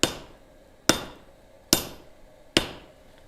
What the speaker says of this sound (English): you need to tilt your hammer so you're not drawing to the side that's too long